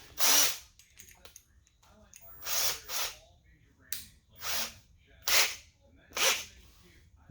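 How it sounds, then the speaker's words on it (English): A power drill whirs through acrylic for a Cessna 140 panel in about seven short bursts, each spinning up and cutting for under a second, with brief quiet gaps between them. "I'm going to switch it out to my big drill"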